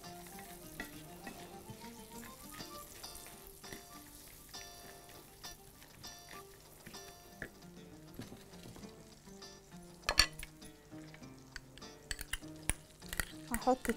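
Nuts, raisins and almonds being stirred in a pan, a steady soft sizzle with scattered clinks and scrapes of a utensil against the pan, a few sharper knocks near the end.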